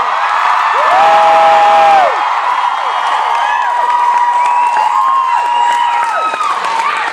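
A lively fan convention crowd in Denver cheers, whoops and applauds loudly in a big hall. The noise swells into a dense, sustained roar with high shouts and whistles cutting through.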